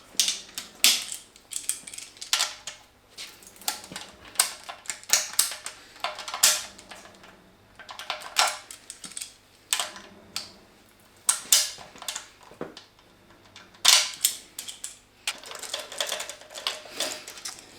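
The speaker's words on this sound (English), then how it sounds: "I'm going to take my tappets out of each so we don't lose them" Tappets being pulled one by one from the cylinder head of a broken Audi RS3 engine, giving a run of close metallic clicks, taps and light clatters in uneven bursts with short pauses between.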